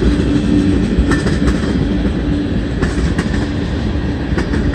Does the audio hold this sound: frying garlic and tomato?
no